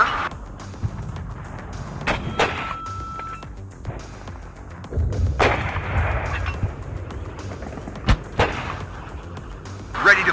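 Artillery firing in the WARNO war strategy game: several deep booming blasts and rumbling impacts spread across the clip, some sharp cracks, a short beep, and occasional voice lines from the game.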